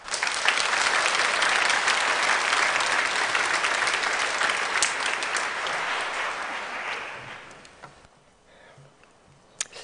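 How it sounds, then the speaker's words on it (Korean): Steady, loud applause from a church congregation welcoming a pastor to the pulpit for a Sunday evening service, filling most of the clip before quickly fading to near silence with a few final claps. "목사님 나오실 때 박수로 환영하겠습니다."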